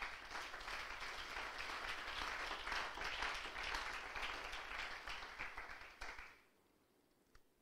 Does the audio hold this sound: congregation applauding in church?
yes